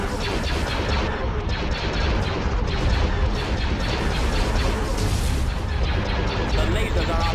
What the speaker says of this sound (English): Our target fire is in the laser cannons.